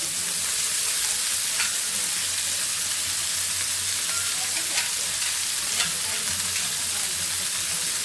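Chopped greens with onion, garlic and green chili frying in a pan, giving a loud, continuous, dense sizzle with faint scattered crackles and stirring.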